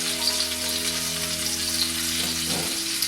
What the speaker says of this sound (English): Nice sizzle, I know you can hear that.